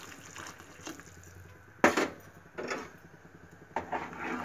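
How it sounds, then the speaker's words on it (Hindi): A glass of water pouring into a pot of South Indian rasam gravy, with a few splashing gushes and sloshes over low background hum, no talking. "तो मैं अभी एक गिलास पानी इसमें डाल रही हूँ।"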